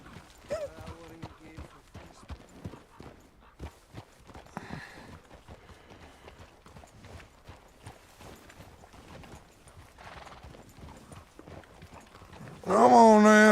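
A horse walks along a snowy winter road in a western ranch roleplay game, its steady hoofbeats repeating close by under ongoing talk; near the end a louder, tonal burst cuts in.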